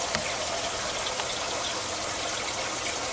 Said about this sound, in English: filling up with water